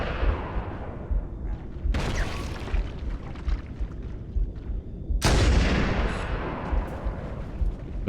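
Gunfire in the video game Halo Combat Evolved, landing a headshot: two loud, booming shots with long echoing tails, a few seconds apart.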